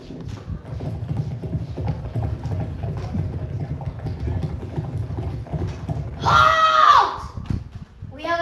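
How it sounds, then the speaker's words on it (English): A large band of horses galloping closer, a dense, continuous rumble of hoofbeats that swells, then a shrill whinnying cry rises over it near the end. "It sounds like an army of horses approaching."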